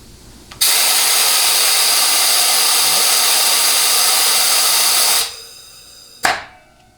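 A compressed-air nozzle blows a steady, loud hiss into a 700R4/4L60E transmission reverse input clutch drum for about five seconds, then the trigger is released and the hiss tapers off, followed by one short sharp burst of air.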